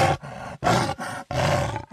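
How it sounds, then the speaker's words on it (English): A big cat at a zoo lets out loud, close roaring grunts, three or four rough bursts in quick succession separated by short breaths. "it vibrates and it creates that big sound, and it sounds like a roar"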